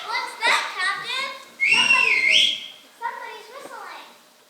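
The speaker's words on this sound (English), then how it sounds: "Somebody's whistling." Someone whistles a short rising tune in the middle of a children's summer camp stage musical of Peter Pan, with children's voices talking before and after.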